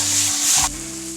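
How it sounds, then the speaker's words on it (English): A steak sizzles in a hot frying pan as it is flipped, a close, bright crackle that drops sharply to a quieter sizzle partway through. "Here goes the boss flip."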